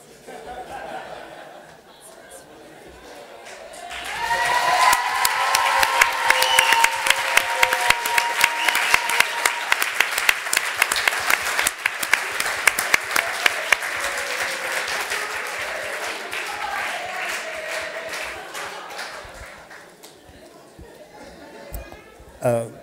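A theatre audience applauds warmly at a French award ceremony after a public prize is announced, a long dense burst of clapping swelling after a few seconds, sustained near and loud with scattered chatter and laughter, then fading out.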